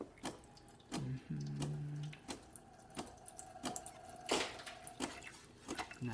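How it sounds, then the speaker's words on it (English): Liquid trickles and drips steadily from the spouts of a freshly serviced DeLonghi espresso machine, with irregular small splashes and a low mechanical hum underneath. "Nice steady stream coming out of the spouts."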